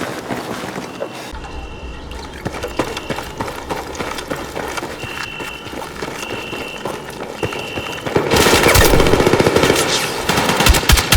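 Dense, sustained automatic gunfire in the Battlefield 6 campaign, rapid bursts layered with combat noise and footsteps, growing louder and more chaotic toward the end.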